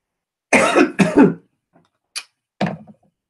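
A person on a live stream coughs and clears their throat in two harsh close bursts, followed by a couple of softer short coughs after a brief pause.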